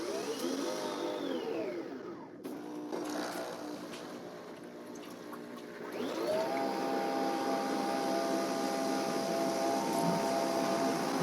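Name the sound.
Nespresso Vertuo Pop and Plus machines spinning and brewing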